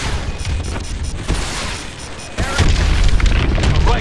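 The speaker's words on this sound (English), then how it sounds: "Lock onto those hard points and hit them with your missiles." Heavy booming missile explosions in the video game Call of Duty: Advanced Warfare, during an attack run on a hydroelectric dam, loud rumbling blasts building into a dense continuous roar.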